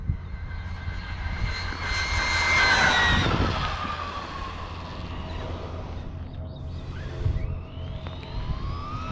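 A Traxxas Bandit VXL or Arrma Typhon 3S RC car on a stock speed run at full throttle gives a loud, rising high-pitched electric motor whine that swells and passes, then fades and returns, with no talking.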